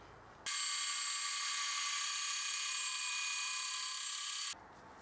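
A table saw fitted with a rip blade cuts through wood for a trapezoidal bass case, a loud steady high-pitched whine lasting about four seconds that starts and stops abruptly, with quieter room sound before and after.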